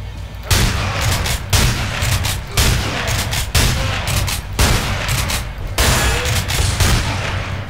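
Heavy gunfire in the first-person shooter Underhell comes as loud, rapid bursts of automatic shots, roughly a burst every second with brief gaps between them, close by and booming, with no talk over it.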